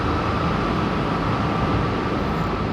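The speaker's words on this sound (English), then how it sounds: "We're not going to talk about anything if these trains going over." Trains passing overhead make a loud, steady, broad rumble with a faint tonal whine, continuous and close.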